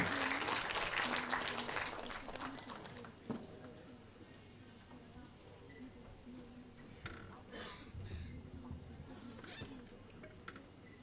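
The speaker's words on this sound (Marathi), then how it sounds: "टाळ्या जोरदार" Audience applause at a public celebration event, a dense clatter of clapping that is loud at the start and then eases into quieter, scattered clapping with some crowd noise underneath.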